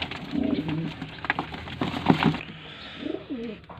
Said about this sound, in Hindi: ये देखिए सारे ब्रीडर कबूतर